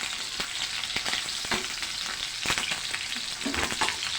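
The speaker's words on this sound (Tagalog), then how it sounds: "Bahagya lang natin siya ipiprito." Boiled pork frying lightly in a pan, a steady close sizzle with occasional sharp crackles and pops, and no voices.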